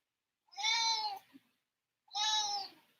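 A cat gives two clear, drawn-out meows about a second and a half apart, moderately close and fairly quiet, with no talking over them.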